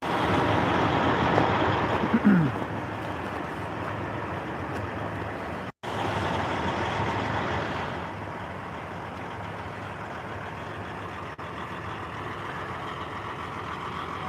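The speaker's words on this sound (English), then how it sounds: "Love the trucks." Heavy trucks of the Freedom Convoy roll along a parkway in a continuous loud rumble of engines and traffic noise, with a brief dip partway through and no voices.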